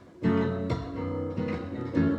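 A few strummed chords on a guitar tuned down a half step, warm and woody in tone, close and moderately loud, each chord ringing into the next.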